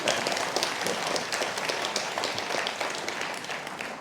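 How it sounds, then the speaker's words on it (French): A conference audience applauds steadily with dense, even clapping that holds at moderate loudness for the whole stretch. "vous pouvez applaudir Valérie"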